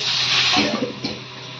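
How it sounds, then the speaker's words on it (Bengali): Running water rushes steadily as rice is rinsed in a kitchen, with a few soft sloshing rubs of grains under the flow, close and fairly loud. "ততক্ষণে আমি চালটা ধুয়ে নিই,"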